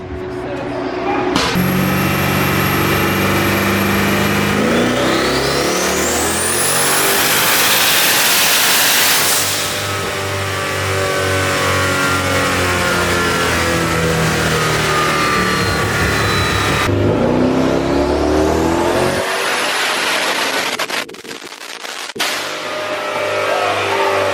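LS-swapped BMW with a twin-turbo 5.3-litre 408 V8 revving hard on a dyno at a night event, loud and sustained with rising sweeps, turbo hiss and a brief lull before a second pull, crowd voices underneath.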